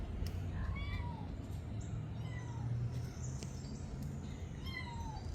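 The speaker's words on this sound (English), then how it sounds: "The kittens are meowing outside, if you can hear that." Kittens meow outside, several short thin high-pitched calls repeating at a distance over a steady low background hum.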